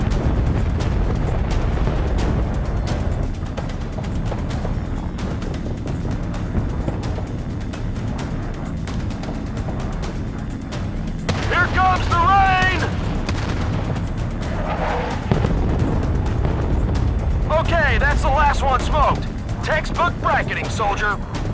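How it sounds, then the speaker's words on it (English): Artillery barrage in a Battlefield: Bad Company battle, with rumbling booms and distant gunfire throughout, a stretch of louder impacts toward the end, and radio chatter over the top. "Artillery fire inbound on target."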